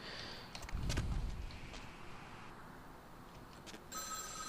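A telephone ringing inside the video game Vampire: The Masquerade – Bloodlines, a faint trilling bell heard over dark ambient game sound with a low thump near the start.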